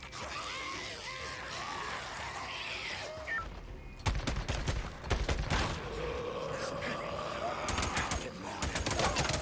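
Video game gunfire from Days Gone against enemies that soak up shots, with bursts of sharp shots and rapid fire over continuous game noise, while someone speaks intermittently.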